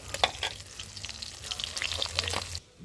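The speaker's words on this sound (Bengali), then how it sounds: "তো প্রায় ভাজা হয়ে গেছে মাছটা, এবার হচ্ছে এটাকে নামিয়ে নিতে হবে।" Fish frying in hot oil for a mustard fish curry, close up, with a steady crackling sizzle and scattered sharp pops that cut off abruptly near the end.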